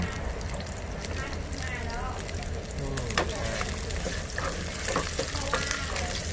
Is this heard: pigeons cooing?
no